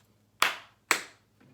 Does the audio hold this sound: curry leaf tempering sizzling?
no